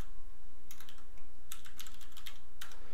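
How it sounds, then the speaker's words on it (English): Fingers tap on a computer keyboard in short quick bursts of clicking keys, fairly faint and close, separated by brief pauses over a quiet hum. "we're going to type in horizontal here."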